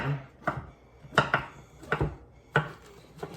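A knife chops mushrooms on a cutting board in a loose rhythm of sharp, close knocks, some single and some in quick pairs, with no talking.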